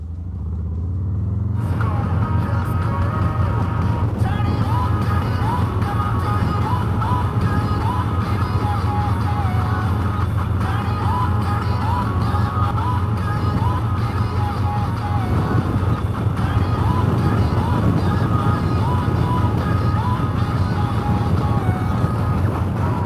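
A Harley-Davidson Heritage motorcycle cruises on the highway at about 75 to 80 mph without a windshield, its engine a loud, continuous rumble mixed with heavy wind roar that holds steady after a brief quiet start.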